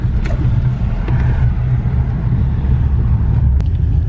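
A supercharged shop truck driving on the road, a loud, close, low engine rumble with steady road noise throughout.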